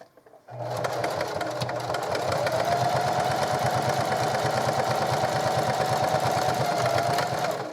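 A sewing machine back-stitches a placemat pouch, starting after a brief pause and then running steadily at close range with a loud, even rhythmic whir and needle chatter that holds for about seven seconds.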